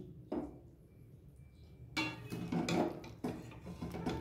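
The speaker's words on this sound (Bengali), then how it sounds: "এবার আস্তে আস্তে আমি মাছগুলোকে খুব আস্তে করে নিয়ে এই বাটির মধ্যে ঢেলে নিচ্ছি" Cooked fish is gently moved into a bowl in a home kitchen, giving a few soft clinks and scrapes of utensil on dish, quiet and close, with pauses between.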